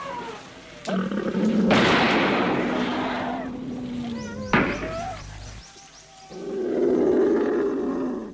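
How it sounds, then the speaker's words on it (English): A tiger in tall grass in India, attacking an elephant, gives loud, close roars and snarls in several rough bursts over a deep sustained rumble, rising and falling throughout. "And there, suddenly, is the tiger, clawing at that rare elephant."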